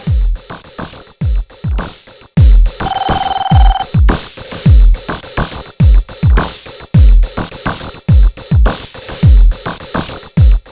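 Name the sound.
telephone ringing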